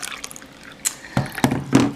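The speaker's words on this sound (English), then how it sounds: "I will put some water in" Water is poured into a sippy cup in a few short splashy bursts with drips between them, close by and moderately loud, with no talking.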